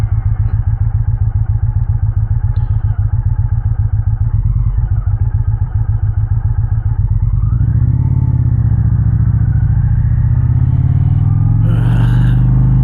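An Indian Challenger motorcycle fitted with a Rinehart exhaust rumbles steadily close by at low revs. Its deep engine note then climbs in pitch and loudness as it accelerates, with no speech over the engine.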